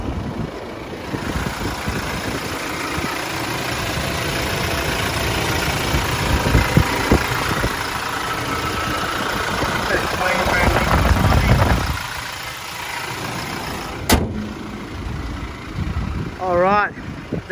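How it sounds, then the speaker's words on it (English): A 2019 Toyota Hiace Commuter 12-seat bus engine idles steadily with the bonnet open, a continuous low hum throughout with some handling noise and a brief sharp knock near the end. "Jumping straight in just to show you the engine bay of the vehicle."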